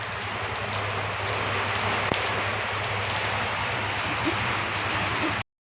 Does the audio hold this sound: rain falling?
yes